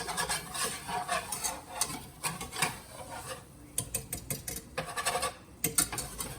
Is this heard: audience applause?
no